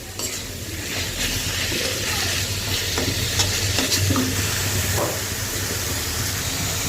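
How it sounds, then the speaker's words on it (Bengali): Pangas fish frying in hot oil, a loud, dense crackling sizzle that stays steady throughout, with occasional pops and a clink of cookware close by. "এখানে মাছ ভাজতে দিছি এই যে পাঙ্গাস মাছ ফটাস ফটাস করে ফটছে"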